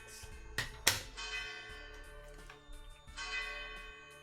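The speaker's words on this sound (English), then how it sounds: "I thought I just heard some church bells in the background" Church bells ring faintly in the background, several distinct metallic strikes with long ringing tones that linger and decay, heard at a distance through a quiet indoor space.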